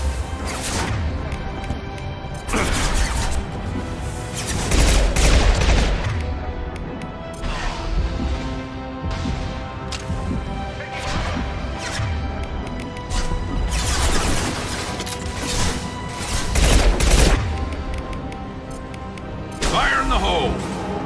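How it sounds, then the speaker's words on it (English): Heavy gunfire and blasts in a Mass Effect 2 firefight, loud bursts and impacts recurring every few seconds over a dense, continuous battle din with music underneath. "Taking heavy fire!"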